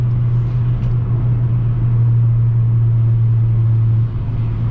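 A Volkswagen Jetta with a five-cylinder engine and straight-pipe exhaust rumbles steadily at close range, a deep droning note holding for several seconds with a slight dip near the end, and no voices are heard.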